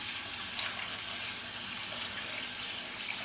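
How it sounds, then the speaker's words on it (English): Steady stream of running tap water splashing over cooked potatoes being rinsed in a sink, a constant close hiss and patter with no talk. "we're going to dump that in there and give it a rinse"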